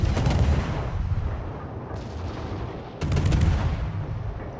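Heavy ship guns firing in a naval video game with a Gearing destroyer, a rolling, thunderous barrage that fades and then swells again with a second loud salvo.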